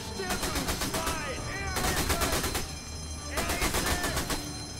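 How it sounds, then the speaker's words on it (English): Machine gun fire in the video game Sniper Elite V2 Remastered, loud rattling bursts in two long runs separated by a short pause, with a voice briefly heard beneath. "trying to shoot me with your little machine gun bullets"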